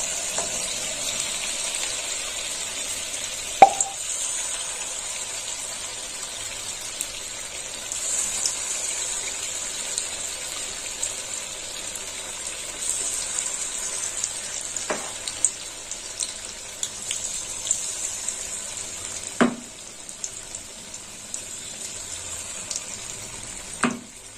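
Capsicum pakoras frying in hot oil, a steady broad sizzle running throughout at moderate level, with a few sharp clicks and knocks at scattered moments.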